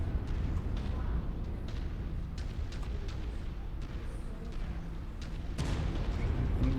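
LRM missile volleys firing in MechWarrior 5, a dense continuous roar of launches and rumbling low booms with a few brighter bursts, loud throughout, with some speech mixed in.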